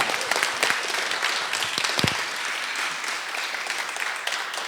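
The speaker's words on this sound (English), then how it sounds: "everyone give him a round of applause" After a Q&A with a musician, the audience breaks into a full, even round of clapping from many hands, steady and fairly close for nearly five seconds.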